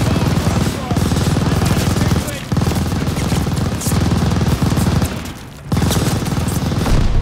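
Sustained machine gun fire in a Call of Duty Vanguard battle, loud rapid bursts of automatic shots broken by brief pauses, with booming impacts mixed in.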